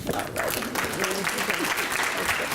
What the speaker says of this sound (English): I know you're clapping